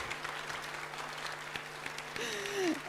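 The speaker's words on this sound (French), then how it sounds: "On applaudit." A studio audience at a French village TV show claps steadily in dense, sustained applause, with a brief voice rising over it near the end.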